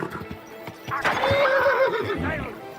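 A horse whinnies loudly and close in the medieval role-playing game Kingdom Come: Deliverance II, a rising then wavering neigh over a background of hoof clip-clops and faint town murmur.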